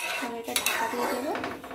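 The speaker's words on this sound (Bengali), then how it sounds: "এটা ঢাকা দিয়ে দেবো" A metal lid clatters onto a cooking pot in a home kitchen, with a couple of short clinks and scrapes of metal on metal, moderately close, while potatoes and water sit in the pot.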